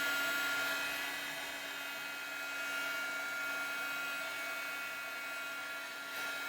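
A hair dryer blows steadily to dry gouache paint, a continuous whirring hum with a bright whine, even and unbroken from start to finish.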